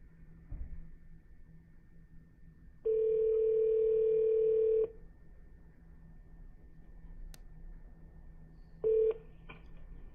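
A telephone ringback tone sounds twice over a quiet line, one long two-second burst and a shorter one later, with faint background hum.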